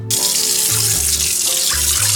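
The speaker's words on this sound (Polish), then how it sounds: "i tak strumień wody to zmyje" A steady stream of water runs from a tap, rinsing something off a kitchen gadget. The close, loud, continuous rush fills the whole moment, with a low pulsing hum underneath.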